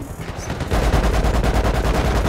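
A sustained burst of rapid automatic machine gun fire in a video game, loud and continuous, with dense rhythmic shots over a heavy low rumble.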